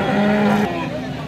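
At a cow market in Alephata, a nearby cow lets out one short, loud low lasting under a second, with a brief trailing tail. Market voices carry faintly around it.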